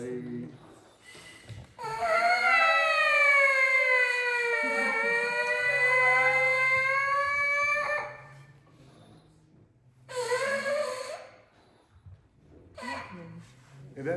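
Bright trumpet tones hold a long sustained note that gently falls then rises like a siren, then short bursts follow, with a low voice murmuring briefly between them.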